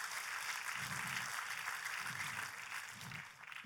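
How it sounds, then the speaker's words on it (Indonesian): Church congregation applauding during a sermon, a dense, continuous wash of clapping from many hands, moderately loud and sustained, tapering slightly toward the end. "Oh, tepuk tangannya lebih dahsyat lagi."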